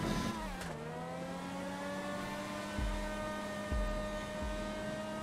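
A car engine in GTA V holds a steady, droning note that dips early on, then settles into a level hum with a few low thumps, alone and at moderate volume.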